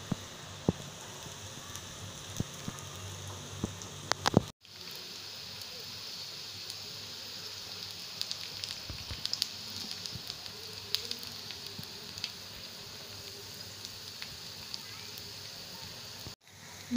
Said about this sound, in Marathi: दोन मिनटं आपल्याला फ्राय करून घ्यायची आहे।